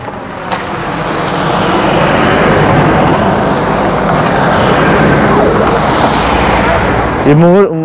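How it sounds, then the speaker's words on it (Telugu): A convoy of three cars rolls past on a road near Gangotri, a broad roar that swells up close for several seconds and then eases off, with a brief voice near the end. "ఈ మూడు కార్లు వెళ్ళాయి కదా హైకోర్టు వాళ్ళు, అందువల్ల ఆపిస్తారు కార్లని"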